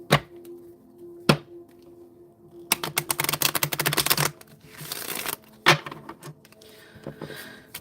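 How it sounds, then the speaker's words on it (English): Tarot cards riffled and shuffled close by: a few sharp taps, then a fast fluttering run of card clicks, followed by another shorter shuffle. "Let me shuffle one more time."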